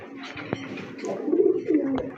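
Pigeons of mixed breeds, shown for sale as a pair, coo in soft repeated throaty phrases that swell louder in the second half, with a couple of sharp clicks earlier and no talking over them.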